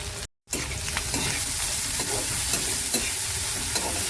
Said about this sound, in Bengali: এটাকে একসাথে ভাজা করবো ভালো করে। এটাই ভাজা ভাজা হচ্ছে।